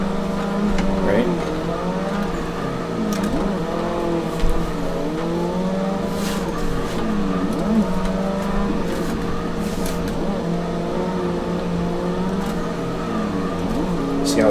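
Race car drifting in Assetto Corsa as the e-brake slows it mid-slide: a steady, droning engine note with wavering pitch and faint tire hiss runs throughout, while someone talks over it.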